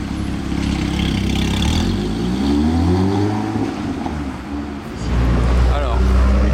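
A sports car in Monaco revs up and lets out crackling exhaust pops beside the street, its engine note loud and close, with excited commentary spoken over it.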